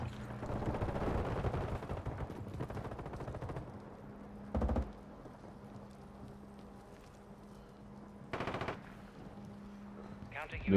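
Bursts of automatic gunfire from the Call of Duty Warzone video game, a long rattling stretch early on, then two short loud volleys later, with players talking over it.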